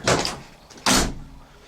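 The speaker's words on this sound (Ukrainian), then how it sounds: "Двері відкриваються, закриваються." A newly refitted door on a VW T3 van is opened and then shut, two close, loud thuds a little under a second apart.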